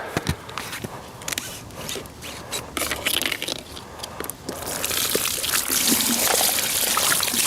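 Water from a pool pump hose splashes and trickles out unevenly at first, then swells into a loud, continuous gushing flow for the last few seconds, with no talking over it.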